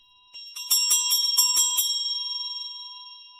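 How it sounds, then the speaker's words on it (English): A doorbell rings in a quick burst of metallic strikes, then a bright, shimmering tone slowly fades away. No voices. "Suddenly, there was a loud ring at the bell again."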